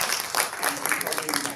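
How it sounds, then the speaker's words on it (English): An audience at a debate event on doctors' migration bursts into dense applause, clapping filling the room while a speaker keeps talking over it. "So I want you to give him a good applause for"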